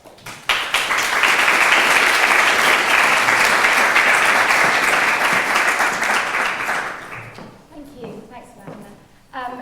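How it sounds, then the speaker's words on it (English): Loud, dense applause from a debate audience welcoming a journalist onto the stage, sustained for about six seconds before fading into a few scattered claps and then a voice. "please welcome, give applause for Nelufar Hedayat"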